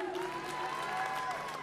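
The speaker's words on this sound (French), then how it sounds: "Je pense qu'on va les applaudir malgré tout" Audience applause at an esports match, steady crowd clapping that fills the whole moment at a moderate distance, with faint cheering mixed in.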